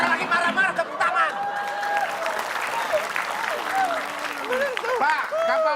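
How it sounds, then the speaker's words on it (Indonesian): A studio audience on an Indonesian comedy quiz show applauds continuously, with voices talking and calling out over the steady clapping throughout. "Ini malah tepuk tangan lagi."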